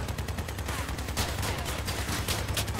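Rapid minigun fire mixed with heavy cannon blasts from a combat vehicle in the game Crossout. The fire is dense and continuous throughout, loud and close, with no speech.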